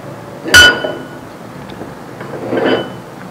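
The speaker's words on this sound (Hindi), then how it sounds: "इसमें सारी चीज़ें डाल के इसको मिक्स करते हैं उसी स्पैचुला से" A metal spatula clinks sharply against a cooking vessel while ingredients for BBQ chicken tawa boti are mixed. One bright hit is followed by a softer scrape-like knock in a quiet kitchen.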